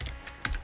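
A few quick keystrokes on a computer keyboard while writing a Roblox Studio script, light close clicks in a short irregular burst.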